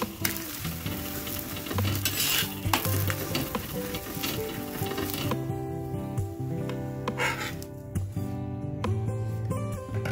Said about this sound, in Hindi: पराठे तलने के लिए मैं रिफाइंड तेल यूज़ कर रही हूँ, आप चाहें तो घी भी यूज़ कर सकते हैं।